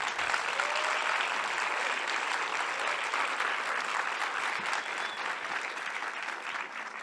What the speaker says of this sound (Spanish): vamos a darle un gran aplauso a Daniela Goicoechea